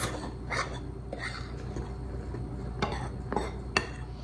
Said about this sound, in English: We're just going to give them a gentle stir together to mix everything up